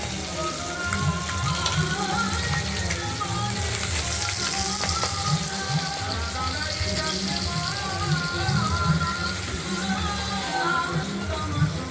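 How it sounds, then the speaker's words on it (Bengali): Pabda fish frying in an oil-filled pan, a continuous close crackling and spattering hiss that holds steady throughout. "মাছগুলো একটি ভেজে নিয়েছি আর একটি ভাজা হলেই আমরা নামিয়ে রাখবো"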